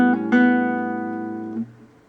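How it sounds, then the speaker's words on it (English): Acoustic guitar notes sound close and clear: a ringing note, then two quick hammered-on and pulled-off changes of pitch in the first moments, another shift near the end, each left to sustain and fade. "it's a bunch of hammer-ons and pull-offs"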